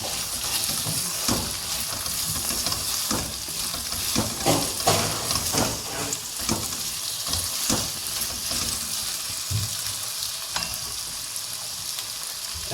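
Okra sabji frying with salt in a hot pan, a dense continuous sizzle under repeated spatula scrapes and knocks as the bhindi is mixed, close and fairly loud, with no talking.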